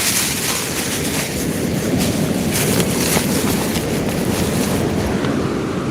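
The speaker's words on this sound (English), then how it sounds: "the wind's kind of coming in this angle here, hitting the left hand side" Strong wind sweeps a sea shore where someone is fishing, making a continuous loud roaring rush with heavy buffeting on the microphone and no voices.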